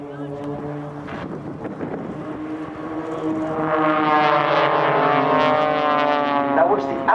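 Aerobatic display aircraft pulling up for a loop overhead at an airshow, a sustained droning engine roar with shifting pitch, growing louder midway, heard under a commentator's voice and wind on the microphone.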